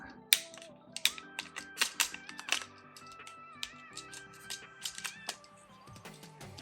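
A Transformers Legacy Blitzwing toy figure has its plastic arms folded back into grooves, giving a run of sharp plastic clicks and ratcheting snaps at uneven intervals over faint background music.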